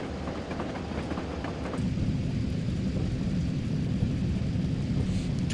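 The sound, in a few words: long freight train passing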